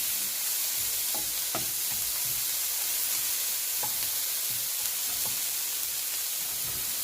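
Bacon and egg scramble frying in a pan, a steady close sizzle and hiss throughout with a few faint scrapes of stirring, no voices.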